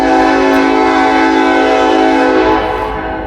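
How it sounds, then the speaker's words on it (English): A Norfolk Southern grain train passing in Hamilton sounds its horn in a loud, steady chord that holds for most of the moment, then fades slightly at the end over low rumble. "Looks like a grain train."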